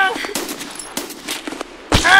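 Gunfire in the video game Escape from Tarkov comes as several sharp, close bursts of shots in quick succession, interleaved with excited shouting voices.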